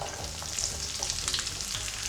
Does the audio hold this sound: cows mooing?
no